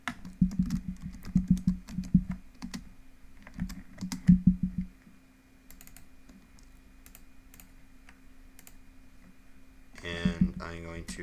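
Quick bursts of keystrokes on a computer keyboard name a CAD part file, close and crisp with short pauses between runs, then a quiet stretch before a last flurry of typing.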